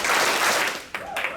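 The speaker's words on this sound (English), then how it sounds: "we're gonna give every poet tonight 3 crispy claps" Audience at a poetry night claps together in a brief, crisp burst, loud and close, then fades into room noise.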